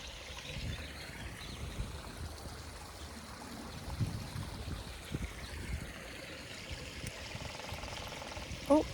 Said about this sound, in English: you can probably hear the water running and the birds singing